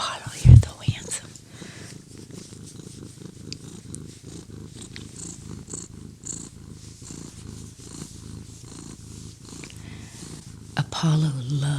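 Apollo the cat purring softly and steadily while his belly is rubbed, a close low rumbling drone under quiet whispered talk, with a couple of brief louder bumps near the start and end.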